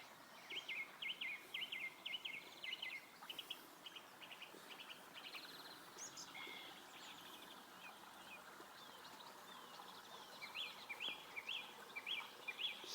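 Blackbirds sing in a spring garden beside a stream, bright chirping phrases repeating in bursts at moderate distance over a soft outdoor background, with no talking.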